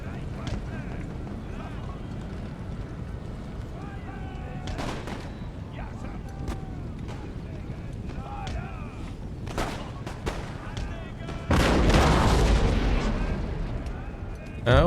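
Cannon and musket volleys in Empire: Total War during a Prussia campaign battle: scattered booming shots and crackling rifle fire, then a heavy rolling barrage near the end.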